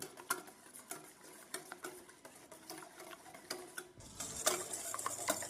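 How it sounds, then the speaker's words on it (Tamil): Eggs whisked by hand in a bowl for caramel pudding: quiet, rapid ticking and pattering strokes in a steady rhythm, turning a little louder and busier near the end, with no talk. "முட்டையை நாம் நன்றாக அடித்து கொள்ள வேண்டும்"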